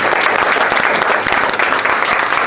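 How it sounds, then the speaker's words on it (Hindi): A church congregation gives a loud, continuous round of applause for a couple being joined in marriage, thick and even throughout with no pause or talking. "आप जोरदार तालियां दोनों के लिए बजाएगा"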